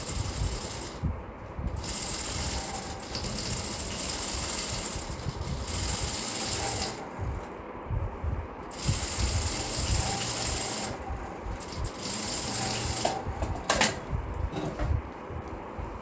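Sewing machine stitching pant fabric in a tailoring alteration, running in bursts of fast rattling mechanical chatter broken by short pauses, close and fairly loud with no talk.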